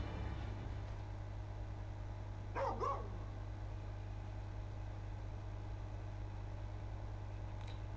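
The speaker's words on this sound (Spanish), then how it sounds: "Y ahí está el otro perro de Luna Freya, Prina." Prina, Lunafreya's dog in Final Fantasy XV, gives two quick barks, soft and somewhat distant, over a constant low hum of game background sound.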